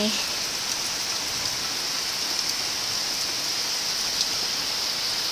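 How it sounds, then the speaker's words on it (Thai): Steady, dense rainfall pours down without a break, a loud broadband hiss of heavy rain drumming on surfaces, with no voices. "ตอนนี้นะคะฝนก็ตกลงมาอย่างหนักเลยค่ะ"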